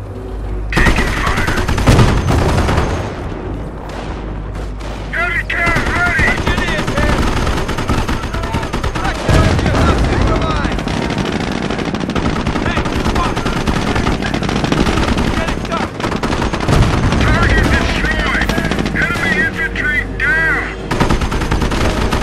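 Heavy sustained machine-gun and rifle fire in a World War II battle near Cherbourg in Normandy in the strategy game Company of Heroes, loud and continuous throughout, with occasional booms and soldier radio chatter underneath.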